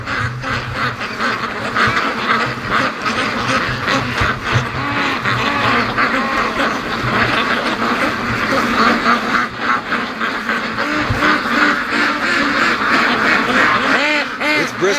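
A flock of free-range ducks on a lake quacking continuously, many overlapping quacks in a busy, dense chorus, loud and close throughout.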